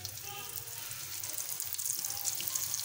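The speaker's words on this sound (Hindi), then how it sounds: "तो इसको मैं फ्राई कर रही हूँ," Egg and potato kababs fry in hot oil, a faint, even sizzle and crackle running steadily throughout with no talk.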